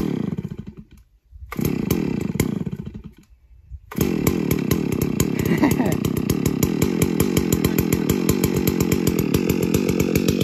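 A chainsaw starts, sputters and stalls twice, then roars steadily with a rapid rattling chain, loud and close, cutting through the wood of an old mango tree.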